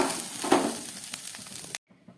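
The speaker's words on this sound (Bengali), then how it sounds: "চিংড়ি মাছগুলোকে আমি খুব ভালো করে ভেজে নিলাম। এবারে আমি এগুলোকে তুলে ফেলছি।" Small prawns fry in hot oil in a kadai with a close, crackling sizzle and stirring scrapes as they are lifted out; the sound cuts off abruptly near the end.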